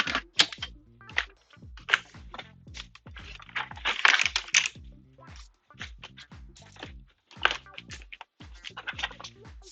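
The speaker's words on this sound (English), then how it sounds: "let me grab my old keyboard" An old computer keyboard typed on at a steady, busy pace, with loud close clacky keystrokes in quick runs and short pauses, no voices over them.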